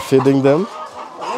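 Chickens clucking on a farm in Kenya where hens lay eggs everywhere, a loud close burst of clucks up front followed by softer bird calls as a person talks.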